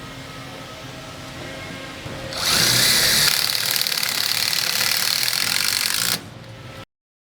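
A power drill drives screws into the slotted holes of a top template during a blender installation, one loud continuous whir of about four seconds rising over a quiet room, then dropping off abruptly.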